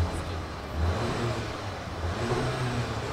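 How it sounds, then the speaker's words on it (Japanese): Car with a manual transmission revving at a Tokyo motor festival, heard at a moderate distance as a steady engine hum that rises and swells in pitch, with crowd murmur around it. "エンジンの回転数は6500ぐらいかな"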